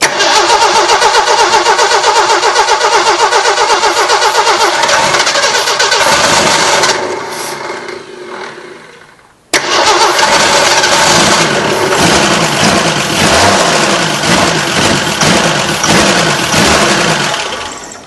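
An old Jeep CJ-5 engine cranks and roars to life close by, runs loudly, then dies away before starting again and settling into a steady idle.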